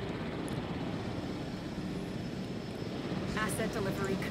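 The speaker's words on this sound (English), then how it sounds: "watch the helicopters" Helicopters in the dinosaur park game Jurassic World Evolution give a steady rumbling rotor drone beneath a constant low background, with a brief brighter sound effect near the end.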